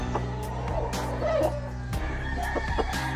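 An Albany Roundhead Kelso rooster crowing amid busy farmyard clucking and chatter, fairly close, with other birds and background noise throughout.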